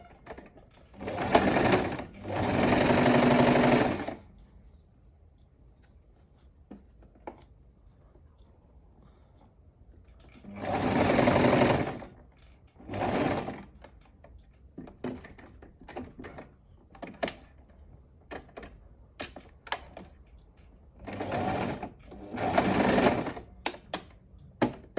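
A sewing machine stitches a scrunchie seam in several separate bursts of a few seconds each, with quiet gaps and small handling clicks between runs, close and clear.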